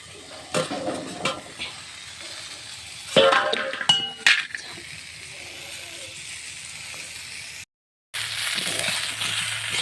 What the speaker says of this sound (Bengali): পটলগুলো সুন্দর কালার চলে এসছে ভাজা ভাজা